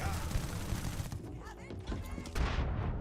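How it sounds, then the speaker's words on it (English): A suppressed full-auto rifle in a video game fires in quick bursts of soft, rapid cracks with thumping low end, fairly close, the final burst the loudest, over faint game ambience. "Suppressed rifle. Is it full auto? Oh, it is."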